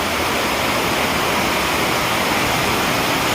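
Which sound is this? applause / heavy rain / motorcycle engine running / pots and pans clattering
heavy rain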